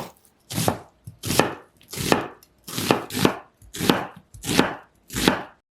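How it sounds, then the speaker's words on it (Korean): An onion is chopped into small pieces with a knife on a board, about seven crisp, evenly spaced bursts of quick chopping, close and clear with no talking. "양파 1개는 작은 크기로 써세요."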